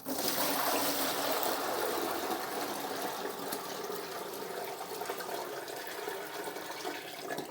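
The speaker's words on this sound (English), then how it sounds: "let's get this hooked up and we'll run some more water through it, bleed out any air that is in the system" Water rushes steadily through a home heating system while air is bled from the pipes, a continuous hissing flow that eases slightly in loudness, with no voices.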